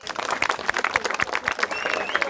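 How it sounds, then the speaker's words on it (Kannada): Audience at a college event show claps in a brisk, scattered burst of applause, fairly close, with some crowd murmur underneath. "ಚಪ್ಪಾಳೆ ಬರಲಿ ಎಲ್ರಿಗೂ."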